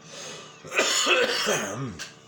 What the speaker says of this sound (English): I'm smoking a joint, so I'm coughing a lot.